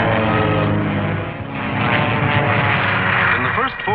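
Drone of WWII fighter and bomber engines over Britain during the Battle of Britain, a dense, continuous roar holding steady throughout with a slight dip and swell, heavy and loud, with a voice likely talking over it.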